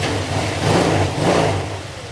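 Engine of a Honda Click 150 scooter running steadily nearby, a mid-pitched hum that swells slightly twice as if revving gently.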